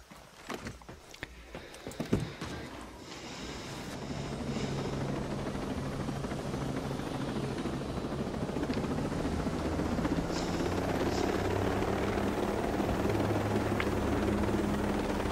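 Steady rotor thrum of a helicopter in the video game Ghost Recon Breakpoint, building after a few sharp thuds and holding loud and continuous to the end.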